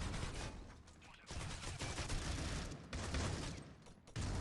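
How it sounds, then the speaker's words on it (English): Rapid gunfire rattles through a competitive video game match in a tournament semi-final, with dense overlapping bursts and short pauses, sharp and fairly close. "Quite a bit of shots."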